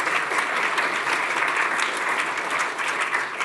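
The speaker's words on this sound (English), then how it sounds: "Please join me in a clap for our speakers." An audience at a Chatham House event on COP30 applauds its speakers with steady, full clapping that stays even and sustained throughout.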